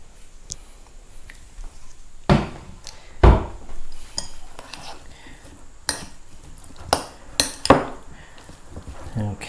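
Broccoli tossed into dressing in a bowl for broccoli salad, heard as scattered utensil clinks and scrapes against the bowl with a few louder knocks, close by with no talk.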